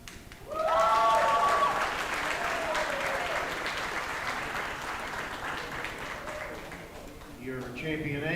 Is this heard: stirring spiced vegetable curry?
no